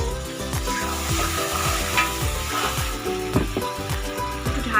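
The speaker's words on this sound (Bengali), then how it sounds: "জল দিয়ে দিলাম" Chicken curry sizzles loudly in a pan as water is added, with steady close frying and rhythmic scraping of a spoon against the pan, and no talking.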